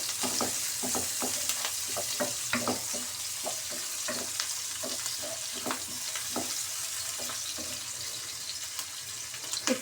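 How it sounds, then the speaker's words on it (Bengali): Green chillies and onions fry in a pan, a constant sizzle broken by repeated scraping strokes of a spatula at an irregular but steady pace, close and clear with no voices. "কাঁচা ঝালগুলো দিয়ে পেঁয়াজের সাথে সুন্দর করে নেড়ে নেব।"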